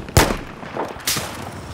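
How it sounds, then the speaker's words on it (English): Two distant rifle shots from a sniper in the Battlefield 4 video game, each a sharp crack with a short echoing tail, about a second apart over low game ambience. "Oh, I hear a sniper."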